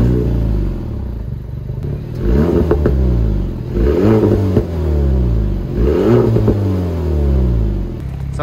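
Engine of a Porsche Cayman 718 sports coupe, close and loud, rises through three or four strong revs with rumbling idle between them, no voices over it.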